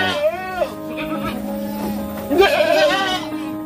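Senduro goats bleat on a breeding farm, two wavering, nasal cries close by, the second louder and longer, with people talking in the background.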